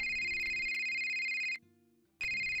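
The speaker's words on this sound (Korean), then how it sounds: "핸드폰 소리가 울려 퍼졌습니다" A mobile phone ringtone plays loud and close, a bright steady electronic tone that stops for about half a second and then starts again.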